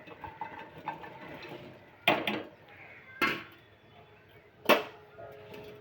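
Green chillies, cut in two, tumble into a heated kadhai to roast: three sharp clattering drops at intervals, each a bright splashy hit followed by a short sizzle, over faint kitchen background.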